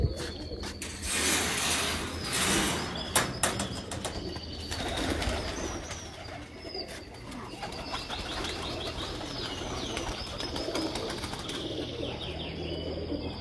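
Two breeder pigeons coo softly with bursts of wing flapping and some mechanical clattering, close and without talk over them.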